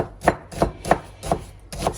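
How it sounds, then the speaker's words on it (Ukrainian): Onion being chopped on a cutting board for a vegetable sauce for toddlers: five crisp, evenly spaced knife strikes, close and clear, with no talk. "нарізаю цибульку"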